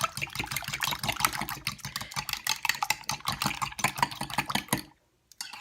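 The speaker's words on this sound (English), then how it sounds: "I'm going to just go ahead and whisk these together until they're well whisked" A whisk beats ingredients together in a bowl for a Mexican casserole, quick rhythmic scraping strokes that run for several seconds, then stop abruptly, followed by near silence and one brief tap.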